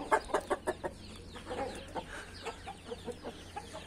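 A hen settling over her chicks on a hot day, soft repeated clucks and faint peeping in an uneven rhythm, close and fairly quiet, with no talking.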